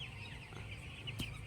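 A farm chicken clucks softly close by, a few short, low calls over quiet background rustle, with one sharper sound near the end.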